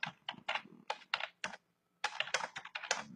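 Rapid bursts of keystrokes on a computer keyboard, close and clear, with a brief pause midway before the typing resumes; no talking.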